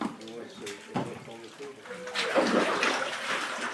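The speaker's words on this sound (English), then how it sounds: "This is mixed with water again to create pulp, the first step towards the final product." Water sloshes and splashes as it is mixed with tree bark fibre into paper pulp, rising into a steady wet churning after someone speaks over the start.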